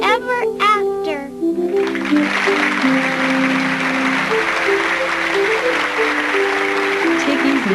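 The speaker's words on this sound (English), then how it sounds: "Tiggy's mother and father clapped loudest of all." Parents and an audience break into loud, sustained applause after a children's play, the clapping filling the room after a brief moment of children's voices at the start.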